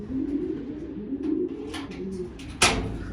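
Racing pigeons in a rooftop loft give low, rolling coos close by, and a sharp knock or flap cuts in near the end.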